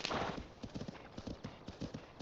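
Horse galloping in the video game The Legend of Zelda: Tears of the Kingdom, rapid rhythmic hoofbeats thudding in quick repeated clusters at moderate volume with no talk.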